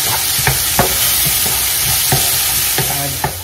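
Tomatoes sizzle in hot oil with onion, ginger, garlic and green chili, a steady frying hiss broken by several sharp clicks and scrapes of stirring.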